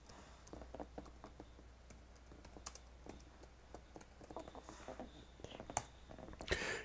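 Soft, rapid keystrokes on a computer keyboard patter unevenly while a folder name is entered in Outlook, close and fairly quiet, ending with a slightly firmer key press.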